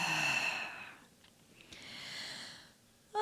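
A deep, breathy exhale during a spinal-mobility yoga breathing exercise, drawn out over a couple of seconds with a softer breath following, close and alone.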